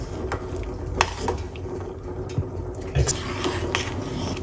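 White onion with garlic and ginger stirred in a pan, soft frying hiss under scattered clinks and scrapes of a utensil against metal, close by, with faint voices in the background.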